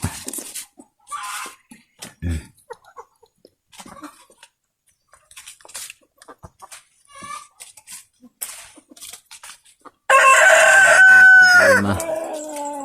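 Backyard chickens cluck and peck in scattered bursts at close range, then a loud rooster crow rings out near the end, drawn out and dominant.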